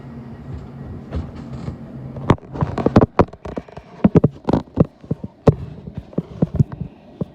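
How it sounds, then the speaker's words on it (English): A Greater Anglia Class 379 electric train departs London Liverpool Street bound for Broxbourne, giving a close, irregular run of sharp metallic clanks and knocks over a low steady rumble. "The train now departing is a Greater Anglia Class 379 to Broxbourne."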